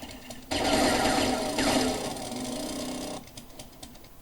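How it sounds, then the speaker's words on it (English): An auger drills in the video game 7 Days to Die with a loud, steady mechanical whir that starts abruptly, holds for about three seconds and then cuts off, with no talking over it. "when we pull the auger out"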